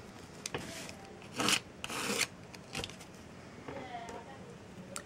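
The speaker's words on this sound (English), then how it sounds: "I'm gonna get my scraper and I'm gonna scrape really hard, and again in another direction." A metal scraper drags hard across a nail stamping plate in several short, rasping strokes, close and scratchy, with pauses between them.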